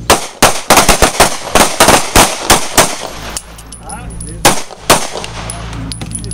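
Pistol gunfire on a police shooting range: a rapid, irregular string of loud, sharp shots fired close by, then a short lull with lingering echo before two more separate shots ring out.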